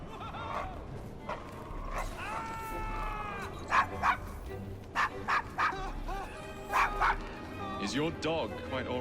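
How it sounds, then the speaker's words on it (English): Dog in the video game Assassin's Creed Syndicate, wary of strangers, gives a series of sharp, loud barks and yips in short bursts amid background ambience, with game characters talking around the barking. "Is your dog quite all right?"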